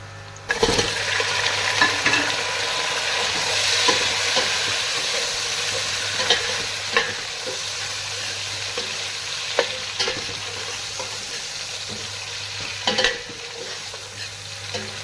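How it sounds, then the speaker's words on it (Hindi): Mutton sizzles and fries steadily in a pot with browned onions while being stirred, with occasional scrapes and clatters of the spoon against the metal over a continuous hiss. "थोड़े बहुत ये मटन के साथ भी फ्राई हो जाएंगे"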